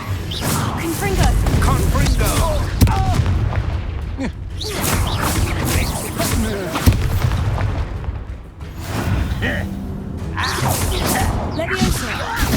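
Confringo fire spell bursts in Hogwarts Legacy, with a dense, loud mix of booming impacts, crashes and combat effects, plus rumbling game music beneath, continuous and close.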